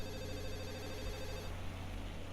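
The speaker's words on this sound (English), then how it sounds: "A familiar soft ringing begins to sound from Lily's side" A soft, steady mobile phone ring tone in the Katawa Shoujo visual novel, a low even tone carried over a continuous backing bed that never breaks for the whole short stretch.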